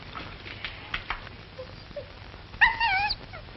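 A dog in a 1942 black-and-white comedy film gives soft, brief whimpers and yips, then a louder, wavering whining howl near the end, close by over a faint hiss.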